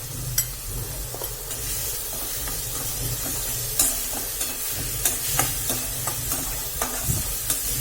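Chopped onion sizzles and fries in hot oil with a half spoon of turmeric, a steady close crackle broken by clicks and scrapes of stirring, with no voices.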